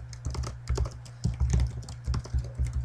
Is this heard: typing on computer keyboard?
yes